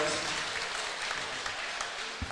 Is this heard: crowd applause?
yes